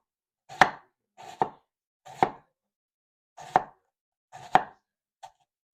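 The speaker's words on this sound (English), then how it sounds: "I'm not going to bore you all with me cutting up onions." A knife chops onions on a board with six sharp, evenly spaced strokes, close and clean against silence.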